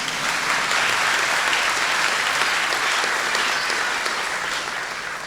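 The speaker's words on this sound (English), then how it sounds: "Round of applause." A large audience at a Kingston University graduation ceremony applauds in a dense, steady burst of clapping that fills the hall for several seconds before easing slightly.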